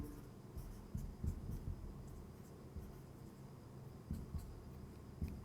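Pen or chalk writing by hand during a maths lesson on conic sections and ellipses, heard as faint scratchy strokes and soft taps in a quiet, hissy room.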